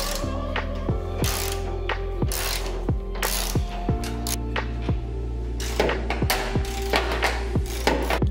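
Hand ratchet clicking in quick repeated bursts while loosening the top nuts of a stock shock absorber on a 2012 Honda Civic, with sharp metallic pawl clicks close by in steady rhythmic strokes and no talk.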